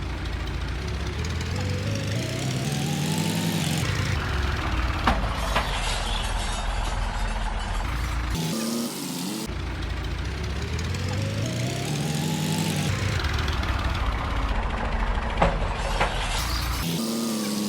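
A farm tractor's engine runs loud and close without a break for the whole stretch, its steady mechanical roar swelling and easing in slow waves, on farmland where the tractor had jolted into a pit and got stuck.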